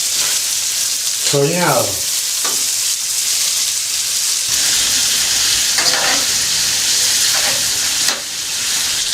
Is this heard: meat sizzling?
yes